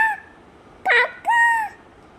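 A voice imitates a crow's caw, giving two short, harsh calls up close with a brief pause between them.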